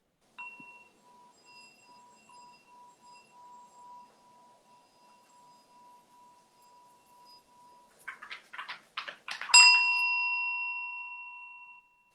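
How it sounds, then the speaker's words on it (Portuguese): A small hand bell rings out clearly near the end, struck in a quick cluster of bright chimes before one louder ring that fades slowly; a steady soft tone and faint pulses sit quietly underneath earlier. "aqui vou tocar um sininho"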